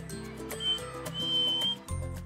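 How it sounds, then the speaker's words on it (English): A person gives a few short, high whistles to attract birds to a bird table, over a low background hum, the middle note held a little longer. "Jensen tries to encourage them with a whistle."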